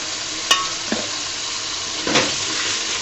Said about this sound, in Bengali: আলুগুলা দিয়ে আমি 2-3 মিনিট মতো ভেজে নেব।